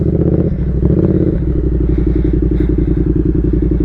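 A 150cc motorcycle fitted with a cone exhaust revs loudly and close by in a side street, its engine note climbing in steps with a steady, throbbing, crackling exhaust pulse throughout.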